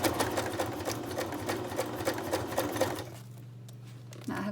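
A sewing machine backstitches briefly to lock stitches on a mixed media junk journal storage pouch, a close rapid mechanical chatter for about three seconds before stopping, leaving a quieter low hum and a soft bump at the end.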